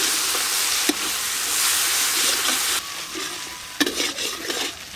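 Spice paste of ground melon seeds and coconut with chili and turmeric powder sizzles steadily in a pan for a fish curry, a continuous frying hiss broken by a few sharp stirring scrapes, with no talk.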